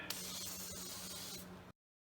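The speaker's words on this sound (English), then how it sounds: "Take your air filter, spray a mist on it." A continuous aerosol spray hisses close up onto a car's air filter for about a second and a half, then cuts off abruptly into silence.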